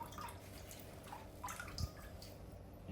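Water dripping and trickling as a paper towel is wetted during nano reef tank maintenance, soft irregular drips and splashes, faint and close, with no talking.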